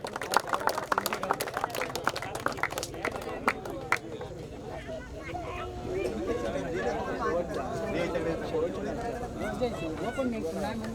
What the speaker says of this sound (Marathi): टाळ्या झाल्या पाहिजेत